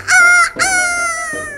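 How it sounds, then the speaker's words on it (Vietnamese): A rooster crowing sound effect: two loud, close, strained cock-a-doodle-doo calls in quick succession, the second trailing off longer, with no talk. "Tiếng gà không?"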